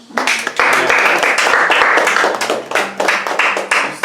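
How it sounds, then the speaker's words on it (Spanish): A church congregation claps together at a Spanish-language Pentecostal service on baptism in the Holy Spirit, a loud, sustained, dense burst of hands with a few voices mixed in. "Dale un aplauso, Señor."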